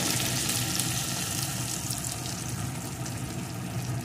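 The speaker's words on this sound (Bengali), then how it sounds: "এখন এগুলোকেও একটু ভেজে নেব।" Ingredients for a fish curry, including slit green chillies, fry in hot oil in a pan, giving a steady, dense sizzle that continues evenly throughout without any talking.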